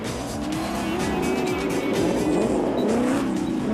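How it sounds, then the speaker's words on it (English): Rally cars, including a Ford and a BMW, racing on a special stage of the Magalies 400, a loud continuous engine roar with revving pitch changes and tyre noise. "Superb reading of the roadbook from Howie as he and Foss now have a slim lead over the Ford."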